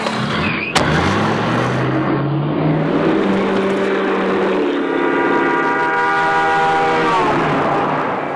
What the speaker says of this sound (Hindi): अब हम निकल चुके हैं निसान माइक्रा की टेस्ट ड्राइव पर